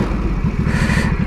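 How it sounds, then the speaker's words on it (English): A Ducati Supersport S motorcycle's exhaust rumbles loud and close in a short, steady low burble with no voices. "I just love that exhaust sound."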